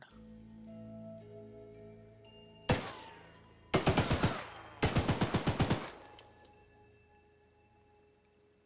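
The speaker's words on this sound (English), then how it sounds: "A gun." Rapid gunfire from a gun in the game Smithyr: a single loud shot, then two tight bursts of about eight quick rounds each, set against a steady electronic game background with no talk.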